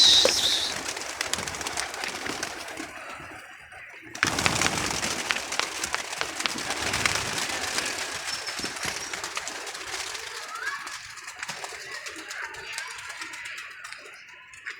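Pigeons coo softly while a flock flaps into flight, a sudden loud whoosh of wings at about four seconds, followed by a fluttering rush that fades gradually.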